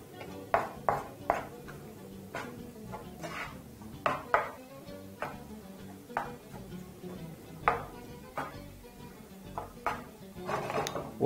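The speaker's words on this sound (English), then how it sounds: "And now just proceed to mix everything together." Macaroni and cheese is mixed together in a pot. A spoon knocks and scrapes against the pot in a loose, irregular rhythm, with wet stirring sounds between the strikes. It is close and fairly quiet, and no one speaks.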